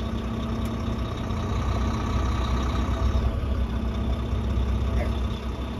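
Truck engine, a CDL training rig in first gear, running steadily as it creeps forward a few feet, a continuous low rumble that stays loud and even throughout.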